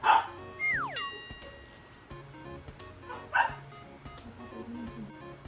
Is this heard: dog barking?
yes